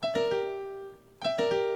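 A piano chord rolled quickly from note to note and left ringing, played twice with a brief pause between, no voices.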